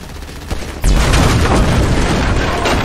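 In GTA V, a loud boom erupts, followed by a sustained roar of rumbling blast noise, preceded by a couple of sharp gunshot cracks as a tank is shot.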